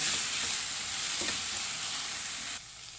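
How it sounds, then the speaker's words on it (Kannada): Mutton coated in ginger garlic paste fries in a pan with a loud, continuous close sizzle, with a couple of soft stirring scrapes, before the sound drops abruptly near the end. "ಇದೆಲ್ಲ ಚೆನ್ನಾಗಿ ಬೇಯಕ್ಕೆ ಬಿಡೋಣ, ಫ್ರೈ ಆಗಕ್ಕೆ ಬಿಡೋಣ"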